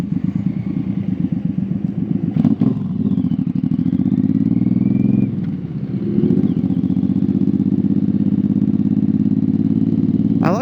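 A big 1800cc Suzuki Boulevard M109R cruiser motorcycle engine runs steadily close by, with a deep throbbing idle, a couple of brief revs swelling and falling back partway through, and no talking.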